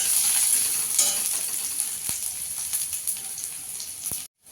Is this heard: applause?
no